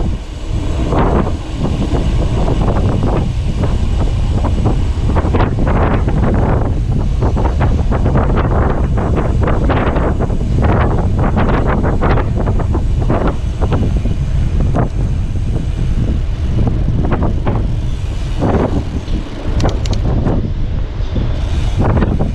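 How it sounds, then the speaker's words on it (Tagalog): Strong wind roars and buffets the microphone continuously, with loud gusting rumble and irregular bursts throughout, on a bike ride on Boracay Island. "Sabi, lakas ang hangin."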